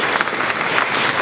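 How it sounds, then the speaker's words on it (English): A crowd at an energy expo applauds a speaker, steady dense clapping heard close and loud through the brief moment with no talking over it. "Let's give Scott a round of applause"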